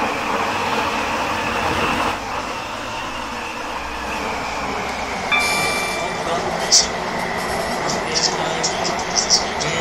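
A train running in a rail operator video game, a steady rolling rumble with faint clicking and a brief tonal chime midway, fairly loud, with voice-like sound mixed in.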